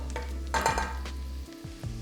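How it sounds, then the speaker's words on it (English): Shallots, garlic and sage leaves fry in a knob of butter over reduced heat, giving a steady close sizzle with a brief louder burst of crackle and some stirring noise. "then we are going to fry our shallots and garlic"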